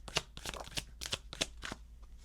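Tarot cards are shuffled by hand, producing a quick series of about six crisp riffling bursts, close and distinct.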